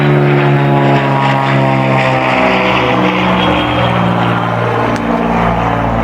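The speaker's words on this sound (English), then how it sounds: "Sorry for the airplane noise, I'm near an airport." A propeller plane drones loudly and continuously near an airport, its pitch slowly sliding as it passes close overhead.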